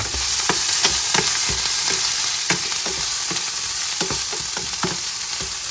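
Curry leaves sizzle hard in hot oil for tempering, a steady close crackle and hiss broken by sharp pops and spatters, loud and continuous with no voices.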